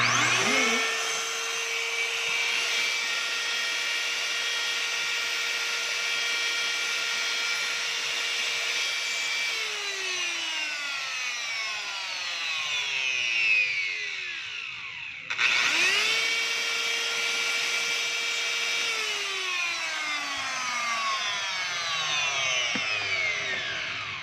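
A DeWalt DWP849X car polisher motor spins up to a steady high whine with a brush hiss. It coasts down in a falling pitch, restarts after a brief pause, runs again and winds down a second time, with no voices.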